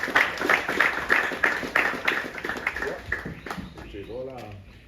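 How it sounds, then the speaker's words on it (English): An audience at a Samoa under-19 men's jersey presentation claps in quick rhythmic bursts for the FFS president, the clapping fading out as a voice begins speaking near the end. "please, round of applause"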